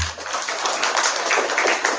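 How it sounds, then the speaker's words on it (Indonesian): Students clap together at a school legal-awareness session, a dense patter of hands that swells and stays fairly loud for the whole stretch. "Ya, tepuk tangan dulu."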